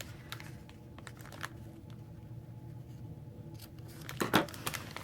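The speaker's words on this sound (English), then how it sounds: "trim your ends so they're nice and even" Scissors snipping the ends of a ribbon bow for a paper-craft Valentine treat, a few quiet crisp cuts near the start and a sharper cluster of snips toward the end, close and faint.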